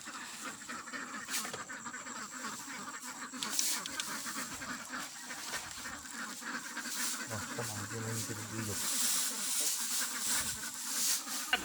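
A flock of domestic ducks quacks near a riverside, with a constant chattering background and a louder stretch of quacking partway through, along with buzzing insects and some voices talking.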